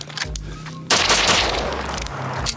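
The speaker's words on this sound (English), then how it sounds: "shooting guns like this is fun" Gunfire from shooting guns at a range, a sudden loud volley of rapid shots erupting after a quieter stretch and ringing on with echo, plus a few sharp cracks at the start and end.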